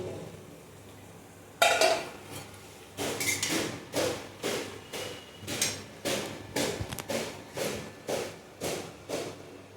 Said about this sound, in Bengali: শিলপাটার মধ্যে আমি বেটে নিচ্ছি কুমড়ো শাকটাকে